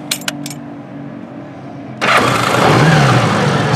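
A 1978 Honda Goldwing motorcycle engine cranks and catches, then settles into a loud, steady idle close by, after a couple of faint clicks.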